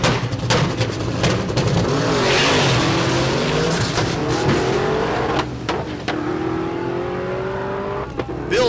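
Drag race cars at a Kansas dragway roar loudly off the line during race week, engines revving hard through the first gears with tire spin, a steady wall of close, dense engine noise and faint voices beneath.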